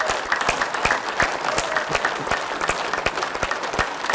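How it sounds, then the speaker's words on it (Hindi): Group clapping hands hard and fast during a laughter therapy session, a rapid run of sharp, evenly spaced claps overlapping into a loud applause-like patter. "इस तरह से ताली मारने से हमारे एक्यूप्रेशर पॉइंट स्टिमुलेट होते हैं"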